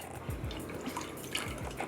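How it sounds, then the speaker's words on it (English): Aloe vera juice is poured into a container, a soft, steady liquid trickle with faint gurgles and drips, fairly quiet and close, with no voices. "I'm gonna add 1 cup of the aloe vera juice and just pour it"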